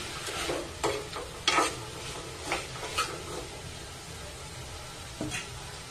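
Chickpea curry with salt and ground masala being stirred in a pan: soft scraping strokes come at irregular intervals over a low, steady sizzle, fairly quiet and close, with no talking.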